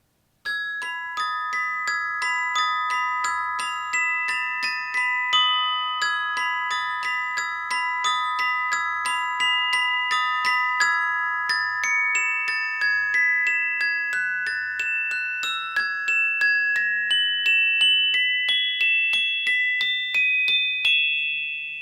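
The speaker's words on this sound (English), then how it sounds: "Here's the glockenspiel." A metal-keyed glockenspiel struck with mallets rings out a bright, steady sequence of clear chiming notes, rising gradually in pitch over a long unbroken run with no voices.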